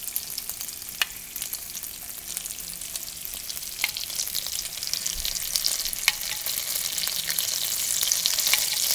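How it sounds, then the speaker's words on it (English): Yogurt spooned slowly into hot spices for a potato yogurt curry, setting off a steady hissing sizzle that swells toward the end, broken by a few faint ticks from the spoon, close and without voices. "I'm going to start adding the yogurt very slowly"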